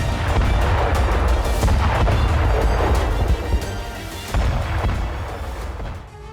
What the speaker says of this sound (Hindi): यूक्रेनी ड्रोन से बंकर में धमाका हुआ